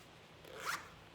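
One short zip as the zipper on a Frogg Toggs Java Toadz 2.5 rain jacket slides open, a quiet soft rasp rising and fading within a fraction of a second in a still room.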